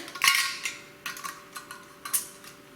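Metal lids set lightly onto glass jars of homemade prickly pear jelly, a series of small clinking taps spaced irregularly, close and fairly quiet.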